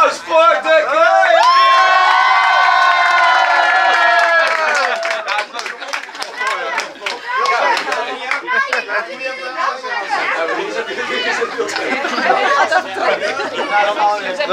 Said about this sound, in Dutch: Dames en heren, één groot applaus voor de kooi.